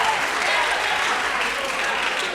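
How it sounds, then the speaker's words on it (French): A hall audience applauds a high school that organises a festival finale, a dense, even wash of clapping that holds steady and fairly loud for the whole stretch. "Donc, si on peut applaudir le lycée."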